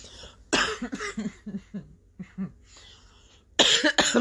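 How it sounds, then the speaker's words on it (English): A woman coughs repeatedly in close, loud bursts, with a couple of big coughing fits at the start and end and smaller throat-clearing coughs in between, no talking. "I'm just coughing."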